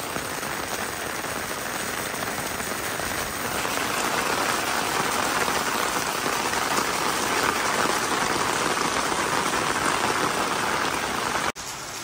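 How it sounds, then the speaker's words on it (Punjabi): Heavy rain pours down while water gushes fast and steadily from a roof drain spout, a loud continuous rushing splash close by. "ਆਹ ਦੇਖੋ ਪੜਤਾਲਾ ਕਿੰਨਾ ਤੇਜ਼ ਚੱਲ ਰਿਹਾ"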